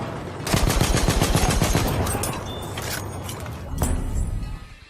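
Gunfire in the World War I shooter Battlefield 1, rapid bursts of machine-gun fire with a few sharper single shots, loud and dense, then easing off, with no voices.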